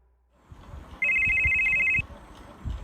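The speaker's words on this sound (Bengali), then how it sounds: "বৃহস্পতিবার বিকেলবেলায় দীপেনের একটা ফোন পেলাম" An electronic telephone ring sounds as an effect in a Bengali detective audio drama: one bright, steady burst lasting about a second, framed by soft low thumps and room noise.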